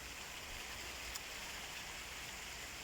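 Steady rain in wet weather in Preston, a faint, even hiss of falling water with no voices.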